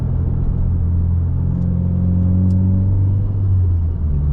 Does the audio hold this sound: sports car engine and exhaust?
yes